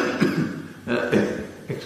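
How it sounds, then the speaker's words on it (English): Several short, heavy coughs from a man come in bursts over about two seconds, close and fairly loud, with no other talk. "excuse the cough, it was heavy all through Ramadan."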